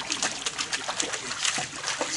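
Pool water splashes and sloshes in quick, irregular bursts close by, a busy churning with no clear voices.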